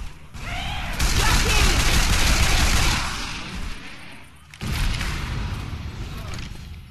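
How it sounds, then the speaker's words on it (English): Loud sustained gunfire cuts down zombies in Left 4 Dead 2 during a co-op campaign on The Parish, a dense roar of shots that fades, then bursts again, with voices over it. "Shoot the zombies."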